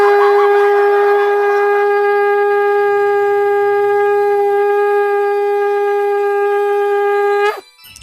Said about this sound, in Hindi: हाँ शंख बजाओ, शंख।